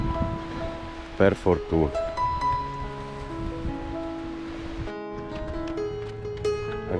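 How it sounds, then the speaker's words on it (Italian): Ocean surf breaking steadily with wind along the Atlantic coast of Spain, a continuous wash of waves heard under someone talking close by. "abbiamo l'oceano qui a sinistra, inizia a essere più ventoso e quindi più fresco"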